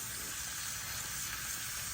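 Beef rouladen browning in a frying pan, a continuous bright sizzle and hiss that holds steady and fairly loud throughout, with no talking.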